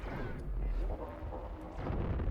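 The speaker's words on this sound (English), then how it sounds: "let's charge up my neutron cannon" A neutron cannon fires in No Man's Sky, giving a deep, rumbling low-end blast that stays loud and sustained across the clip, with no speech over it.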